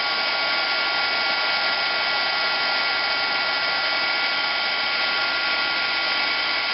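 A craft heat tool blows steadily at close range while embossing powder is melted on a butterfly card, a constant airy whir with no pauses.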